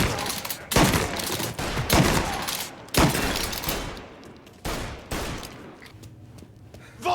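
Bursts of gunfire in a Mafia Definitive Edition cutscene: several loud volleys of automatic and rapid shots with short gaps between them, ringing out close and harsh with no talk over them.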